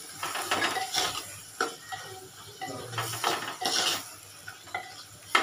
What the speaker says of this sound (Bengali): এবারে ভালো করে এটাকে আমি কষিয়ে নেব।